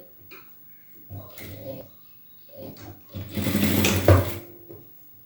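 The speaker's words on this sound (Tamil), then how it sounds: "இது ஃபுல்லாக கவர் ஆன மாதிரி வச்சு தையல் போடணும், படிமான தையல்." A sewing machine stitches a folded blouse seam in short bursts, starting and stopping in several runs with a longer, louder stretch near the end, close and clear in a quiet room.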